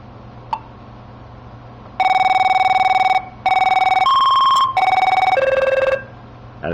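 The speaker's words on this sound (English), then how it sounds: "if you rather go back to the classic tones" An Avaya 9611 IP desk phone rings loudly in a classic electronic pattern: repeated trilling bursts with short pauses between them, changing pitch slightly, with no talking.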